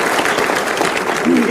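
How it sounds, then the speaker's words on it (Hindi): Audience applause breaks out at a televised political debate, a short burst of steady clapping under a speaking voice. "इनके लिए स्वतः ताली बज गई"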